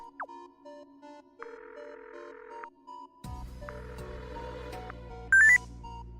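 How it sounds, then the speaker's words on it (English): Smartwatch phone dialing in the video game Buried Stars: steady electronic call tones pulse in repeated beeps, then a low hum sets in beneath further tone bursts and a short bright chime near the end, with no talk. "Open smartwatch to phone Gyuhyuk."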